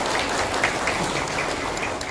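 An indoor audience claps through a corporate honey product presentation, dense steady applause sustained for the whole moment.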